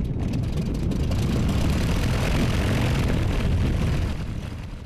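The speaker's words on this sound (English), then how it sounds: "And we're ready to start the engine." A small airplane's propeller engine roars loud and close, a broad rumbling drone that holds steady before easing slightly at the end.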